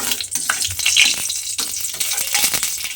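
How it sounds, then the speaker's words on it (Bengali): Black cumin seeds crackle and sizzle in hot oil in a pan, a steady close frying hiss with small pops and occasional stirring clatter, no talking. "কালো জিরে ফোড়ন দিয়ে তারপরে আমি ফোড়নটা একটু ভাজা ভাজা মতো করে নেব।"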